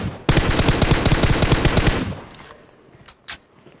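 Automatic gunfire in a squad shooter video game: a rapid, loud burst of evenly spaced shots lasting about two seconds, followed by a few fainter scattered shots and quiet game ambience.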